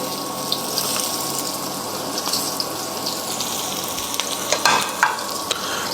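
Ginger, garlic and chili fry in oil in a pot, giving a steady, close hiss of sizzling broken by a few sharp clinks and scrapes of stirring near the end.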